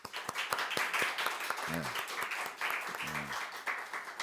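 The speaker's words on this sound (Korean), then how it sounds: "너무 감사하고 우리 찬양팀 악기팀에게 박수를 보냅니다." Church congregation applauding the worship and instrument team during a Sunday service, with steady hand clapping throughout and a couple of short voices breaking in partway through.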